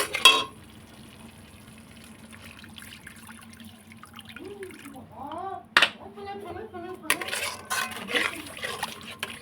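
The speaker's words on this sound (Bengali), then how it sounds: "দিয়ে এটাকে ভালো করে একটু নাড়িয়ে নিচ্ছি, বেশি ভাজবো না" A utensil stirs mustard-seasoned spices in a frying pan while preparing a prawn and pointed gourd dish, giving soft scraping and clinking strokes that grow busier and louder toward the end, with a sharp knock partway through.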